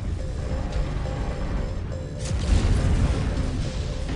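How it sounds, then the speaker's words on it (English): In the MechWarrior 5 video game, a mech's ammunition explodes in a dense, rumbling blast layered over continuous battle noise, with a heavier low thud swelling midway through. "Ammo explosion detected."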